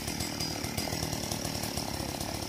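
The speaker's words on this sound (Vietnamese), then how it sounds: "anh Đồng mình sẽ cưa mấy cái cây mù u mà chỗ dây điện nha các bạn" A chainsaw runs steadily with a droning, high whine while cutting a mù u tree tangled near power lines, moderately distant and unbroken.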